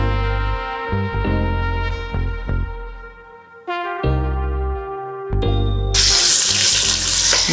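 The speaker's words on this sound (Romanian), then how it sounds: "adăugăm apa." Water is poured into a hot pan of browned chicken for a Romanian chicken stew, a hissing sizzle building over music and swelling to a loud, steady rush at the end.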